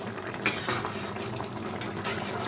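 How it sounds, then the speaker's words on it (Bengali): A metal lid comes off a pot of katla fish simmering in mustard-poppy gravy, with a sharp clatter near the start, then a steady bubbling simmer and faint utensil clinks close by. "এখন আমি ঢাকাটা তুলে দিচ্ছি"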